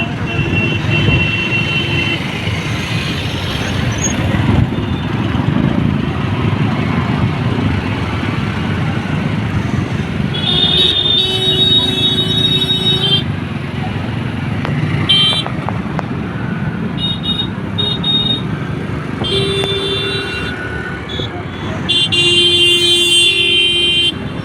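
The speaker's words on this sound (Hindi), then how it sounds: "इतना ट्रैफिक होता है दिल्ली में" Busy Delhi street traffic with cars and motorcycles passing in a steady loud roar, engines rumbling throughout and scattered horn honks sounding near and far.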